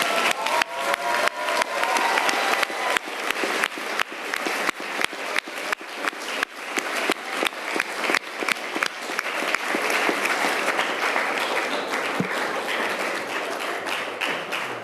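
Loud, sustained applause from a large crowd for a student band at a civic event, dense clapping filling the whole stretch with no talking over it.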